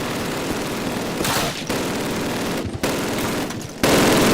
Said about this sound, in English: Machine guns! Machine guns ready!